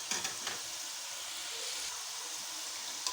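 French fries frying in hot oil, a steady close sizzle and hiss that runs throughout with no voices over it.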